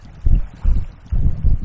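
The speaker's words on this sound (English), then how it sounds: "It's just so windy." Strong gusting wind buffets the microphone while kayaking on a lake between Torver and Peel Island, heavy low rumbling bursts coming in pulses, close and loud.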